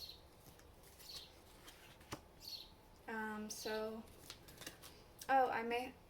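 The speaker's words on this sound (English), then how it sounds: "so that as I'm shuffling, it won't shake up" Tarot cards are shuffled by hand in quiet, soft riffling bursts with pauses between them, joined by a few brief high chirping sounds.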